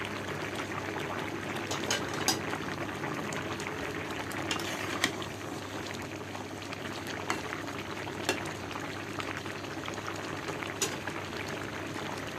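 Curry simmering in a pot, a continuous soft bubbling with occasional sharper pops and spits, close and steady, no talking.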